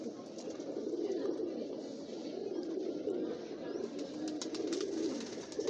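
Pigeons of the Awkab breed coo softly and continuously in a loft, a steady low murmur of overlapping calls with a few brighter chirps above it.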